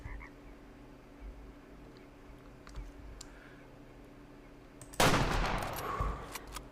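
A single loud rifle shot in the hunting game Way of the Hunter cracks out close after a stretch of quiet outdoor ambience, with a rough rolling echo trailing off.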